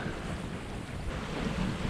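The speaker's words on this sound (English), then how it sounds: "there's a lovely cool breeze coming from the land" Steady breeze and wind rush across the microphone aboard a Hallberg-Rassy 54 sailboat heading upwind through open sea, with a constant broadband roar and faint wave wash, no voices.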